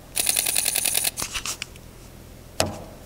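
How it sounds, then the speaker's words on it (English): A camera shutter in normal mode fires a rapid burst of crisp mechanical clicks up close, then a few separate clacks and one final sharp click after a short pause. "Now, that's the normal sounding shutter."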